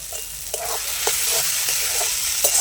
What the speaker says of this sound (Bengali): এবার এই ভেজে রাখা চিংড়ি মাছ এর মধ্যে আমি দিয়ে দেবো।